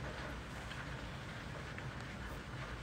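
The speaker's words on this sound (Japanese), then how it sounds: "雨すごいよね。 雨の音がすごいね。" Heavy rain pours in a dense, steady hiss with no breaks, faint and distant as if heard from indoors.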